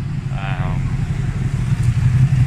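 A Ducati Panigale 959 sport bike engine heard while riding: a steady, loud, close low-mid drone with a rumbling texture and slight rises in revs, partly masked by wind noise, with a brief faint voice-like sound.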